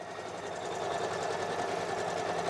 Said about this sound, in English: it's not the loudest embroidery machine, which is pretty nice. And it does move pretty quickly.